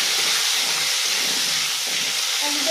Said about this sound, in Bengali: আলুটাকে ভালো করে ভাজতে হবে।